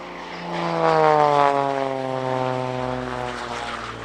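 A propeller aircraft flies an airshow display at the Leszno airshow in Poland, its engine droning loud and steady with a rising and falling pitch as it passes close by, with no talking.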